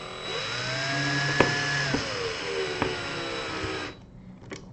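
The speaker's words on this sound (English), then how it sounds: "this time I'm just going to use the drill" Electric drill driving screws into the cover of a RoboDuels Hammerhead V2 sumo robot: a close, steady whirring run whose pitch rises and falls, with a few sharp clicks, then stops with a brief tap.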